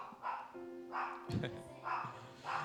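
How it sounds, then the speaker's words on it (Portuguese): A dog barks a few times at a distance, short yaps mixed with a person talking nearby. "Viu outro cachorro lá."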